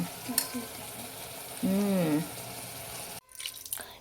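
Water runs and splashes steadily into a pot of chicken sambar with garam masala, with a short rising tonal whine partway through and a sudden drop near the end.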